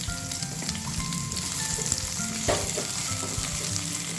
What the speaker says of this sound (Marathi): कढईमध्ये तेल घालायचं आणि कांदा परतून घ्यायचा